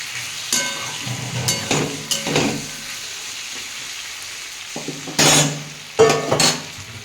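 Tomatoes fry and are stirred in a pan, giving a steady sizzle broken by several loud scraping stirs and clinks of a utensil against the pan, with a pause midway before two more bursts of stirring.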